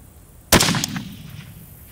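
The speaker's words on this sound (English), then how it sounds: "Fire when ready." A single sharp rifle shot fired at a long-range target cracks loudly and alone, followed by a short decaying echo.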